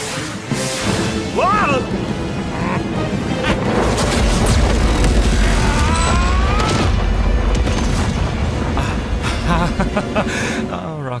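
Animated battle scene as a death ray fires and explodes, a loud sustained rumbling blast with crashing debris and whooshing sweeps, a voice exclaiming over the roar.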